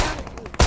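Gunfire in the mobile battle-royale game PUBG Mobile: a muffled burst of rapid shots, then a sudden, louder, close blast at the end of the short stretch.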